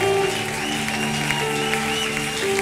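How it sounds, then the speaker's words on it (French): Congregation at a church service cheering and acclaiming with joy, a steady wash of applause-like crowd noise over sustained musical tones, loud and unbroken throughout. "ces acclamations sont pour toi, ces cris de joie sont pour toi"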